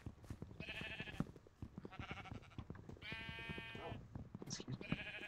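Minecraft sheep bleat repeatedly in a vanilla survival game, several short wavering baas spaced through the stretch amid footsteps and game clatter, with people chatting over them.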